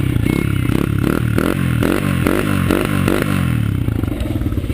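Dirt bike engine idling just after being started for the second time, a close, loud, steady chugging with rhythmic pulses and slight rev swells throughout, no voices over it.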